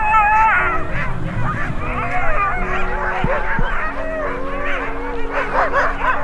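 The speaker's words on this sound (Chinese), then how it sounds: "如果你走到狗小区的门前， 就能听到此起彼伏的狗叫声。" A pack of sled dogs in Ilulissat, Greenland, barking, yipping and howling over one another in a dense, overlapping chorus, loud and close, with some whining cries mixed in.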